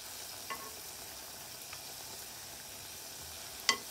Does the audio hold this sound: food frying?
yes